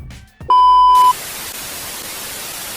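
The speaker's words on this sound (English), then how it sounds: "that's the timer" A timer gives a single loud, sustained electronic beep lasting about half a second, followed by steady hiss and static.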